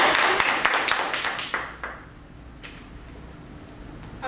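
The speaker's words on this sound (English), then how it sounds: "a round of applause." A brief spatter of clapping from a small group that thins out and fades within a couple of seconds, leaving a quiet room.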